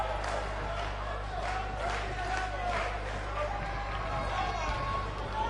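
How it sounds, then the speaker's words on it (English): A video game wrestling crowd makes a steady cheering roar, a dense continuous wall of crowd noise with a low hum under it and no talking. "this crowd's starting to perk up, Michael."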